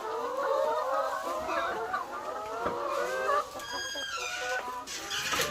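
Laying hens cluck and squabble while pecking at and fighting over eggs in a coop, several birds close by with overlapping busy calls and a few higher squawks.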